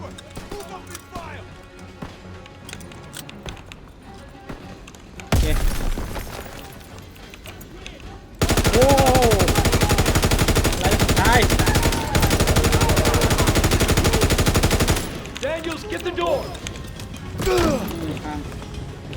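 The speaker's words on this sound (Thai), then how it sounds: "เอาปืนใหญ่ยิงใส่" Heavy gunfire in Call of Duty: WWII: bursts of rapid machine-gun fire and loud booming blasts, including a long intense stretch of continuous shooting, while players talk excitedly throughout.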